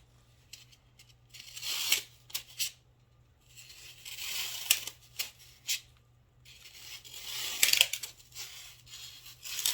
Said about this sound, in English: But I guess I need to cut my foam first.